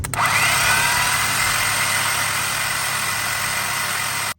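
The starter motor on a 2000 Harley FXDX spins freely without engaging, a loud, steady high-pitched electric whine and whir that runs unbroken for about four seconds and then cuts off abruptly.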